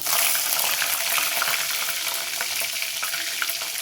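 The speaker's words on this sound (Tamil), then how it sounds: "நல்லா பொரிஞ்ச உடனே பச்சை மிளகா போட்டுக்கலாம்" Green chillies frying in hot oil with crackled cumin seeds for a bitter gourd tamarind kuzhambu, giving a dense, continuous close sizzle with fine spitting crackles throughout and no voices.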